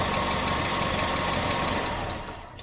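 A Datsun car engine with a carburetor runs at a steady idle close up, a dense, even mechanical clatter that fades away at the end as it shuts off.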